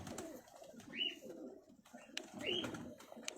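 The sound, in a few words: pigeons cooing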